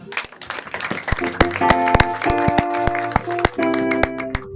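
A church congregation claps along during worship, sharp hand claps falling in an uneven rhythm over sustained keyboard-like musical tones, fairly close and steady throughout.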